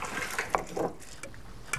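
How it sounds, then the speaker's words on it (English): Cooked edamame are poured into a colander, and the water gushes and splashes through in a short, close burst with a few sharp spatters. "let me take this and strain it through a colander"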